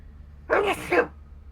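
A single sharp human sneeze, a quick two-part burst, close and loud against a quiet background.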